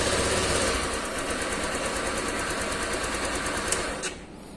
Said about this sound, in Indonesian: ternyata mesinnya hidup.